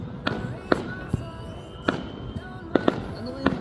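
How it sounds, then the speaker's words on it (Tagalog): New Year fireworks bang and crackle in irregular bursts, several sharp pops spread across a few seconds, with people talking in the background. "Maraming fireworks dun."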